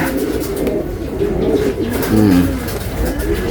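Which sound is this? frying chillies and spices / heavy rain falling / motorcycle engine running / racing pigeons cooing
racing pigeons cooing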